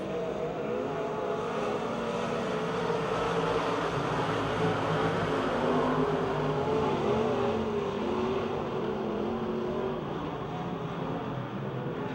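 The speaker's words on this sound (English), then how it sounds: "Daryl Charlier, the Midway Missiles, motors to 3rd." Race cars lapping Pennsylvania Motor Speedway near Pittsburgh: a continuous, dense engine roar from a field of cars, with layered revving that rises and falls slightly. It is steady and moderately loud throughout, with no talk.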